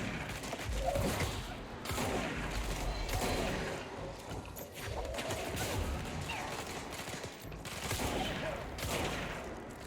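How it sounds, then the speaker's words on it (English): Shotgun fire in the video game Control, a dense run of booming blasts and crashing impacts with mechanical clatter, sustained and loud for about ten seconds of frantic combat. "let's use a shotgun"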